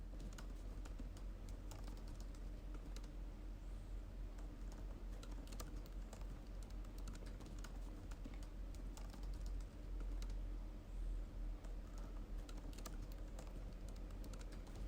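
Steady, quiet clatter of keys on a computer keyboard as a long line of screenplay text is typed, continuous and close with no voices.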